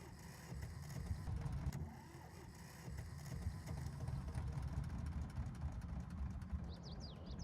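A low, steady old diesel engine rumble in Farming Simulator 22, cranking over continuously, fairly quiet and close, with faint ticks and a brief high chirp near the end.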